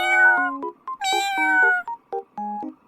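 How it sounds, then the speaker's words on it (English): A cat meows close and clear, a run of several distinct, rising and falling meows in quick succession with no other sound. "Black cat."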